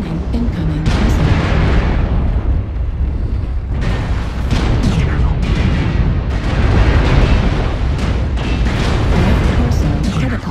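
Loud booming missile explosions and crashing impacts in the MechWarrior Online mech combat game, dense repeated blasts with rumbling mechanical noise, heavy and continuous, with a synthetic voice speaking over part of it.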